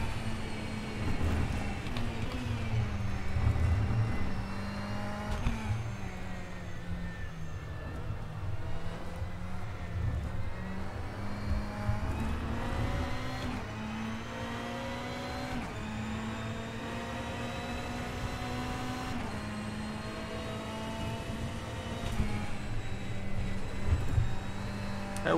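A Ferrari race car in the rFactor 2 racing game: a steady, loud engine drone that holds without a break, its pitch rising and falling through the gear changes, with no talk over it.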